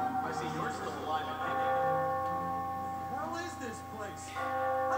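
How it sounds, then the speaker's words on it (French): Bell tolling in the puzzle video game Catherine, a repeated ringing tone that holds steady and carries over a low hum, with a person talking in the background. "Cette cloche, plus on l'entend, plus on est proche du but"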